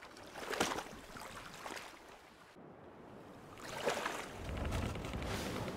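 A catamaran sailing at sea in a survival game: steady rush of water along the hulls with swelling waves and splashes, continuous and fairly soft, without talking.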